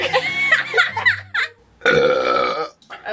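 Loud, drawn-out burps come close up after drinking weird sodas, one bursting out fully after a choppier half-burp, with some vocal noise around them.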